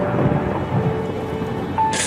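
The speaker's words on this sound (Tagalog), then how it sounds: "habang nakatingala sa langit habang nagsasalimbayan ang malalakas na kulog at kidlat" Rumbling thunder rolls through a storm with steady rain falling, a broad low roar that fills the short stretch without any break.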